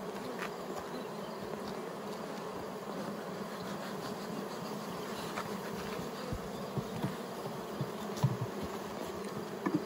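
Honeybees buzz steadily around a village beehive during keeping work, a dense, continuous insect drone close by with no speech, holding an even level throughout.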